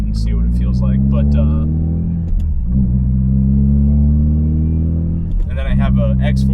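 A 2022 Subaru WRX with an EP5 turbo, X-Force front pipe, MBRP race catback and Perrin intake accelerates up a hill: loud, deep engine rumble climbing in pitch through gears, with someone talking over it.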